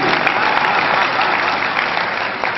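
Loud, dense applause from an audience at a kavi sammelan poetry gathering, a steady wash of many hands clapping close by and continuing without break throughout.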